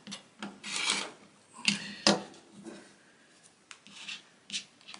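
Quilt fabric pieces are cut with a rotary cutter along a ruler, heard as several close scraping, rasping strokes and sharp clicks, with short pauses between passes.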